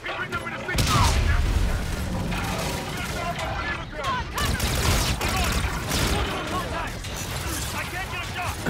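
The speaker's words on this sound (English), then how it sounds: "that's a grenade. Run!" Grenade explosion and sustained gunfire in the shooter game Call of Duty: Infinite Warfare: a dense, continuous barrage of shots with a heavy boom near the start, loud throughout, with people talking over it.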